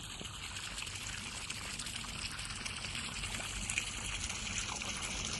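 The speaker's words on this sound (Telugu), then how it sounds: "ఈ బోరు ఎప్పుడైనా ఇలానే పోస్తుంది" Steady rushing, trickling water pours continuously from a farm borewell at close range, with no pauses and no voices.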